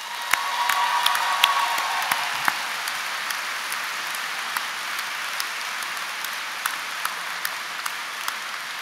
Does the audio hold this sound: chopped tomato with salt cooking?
no